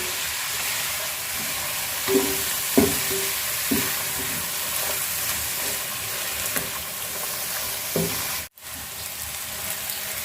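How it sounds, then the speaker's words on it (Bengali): Taro pieces fry in a garlic, turmeric and chili spice paste for a hilsa fish curry, a steady close sizzle with occasional stirring knocks and scrapes, no talking. "কচুটা আমি একদম মশলার সাথে ভাজা নিছি"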